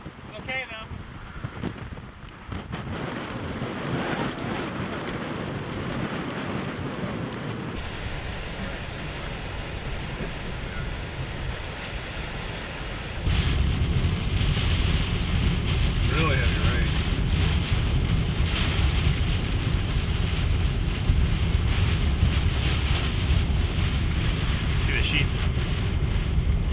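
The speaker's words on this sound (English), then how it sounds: "We got 120 mile an hour sustained winds right now." Hurricane Gustav winds in Houma, Louisiana, a roaring, buffeting blast battering the microphone, steady and loud, growing heavier partway through, with voices talking faintly beneath it.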